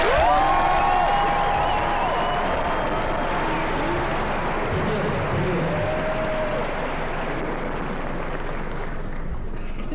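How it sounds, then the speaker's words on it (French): A large premiere audience at the Grand Rex cinema in Paris bursts into loud, sustained applause and cheering, with a few whistles at the start, holding as a broad wash of clapping for the full stretch. "À 3, vous applaudissez comme des oufs."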